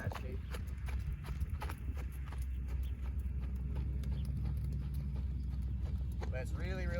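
A young green horse ridden at a calm walk gives steady rhythmic clip-clopping hooves, close and continuous, while a rider talks over them.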